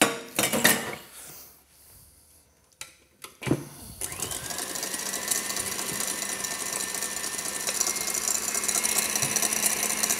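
A stand mixer whisks a praline mixture in its bowl, starting with a few clinks and knocks, then settling into a steady, continuous whirring hum that grows slightly louder, close by and without talk.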